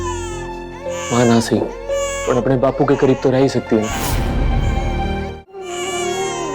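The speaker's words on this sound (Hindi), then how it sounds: "बच्ची बहुत टाइम से रो रही।" A baby girl wails in loud, repeated sobbing cries, with an adult speaking over and between them.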